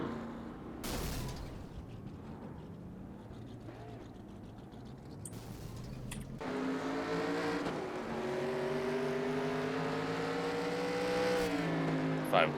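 NASCAR Legends 1987 stock cars racing at Nashville Fairgrounds Speedway in the iRacing video game, engines droning and rising in pitch, with a sharp crash early on and a loud sustained engine roar building in the second half.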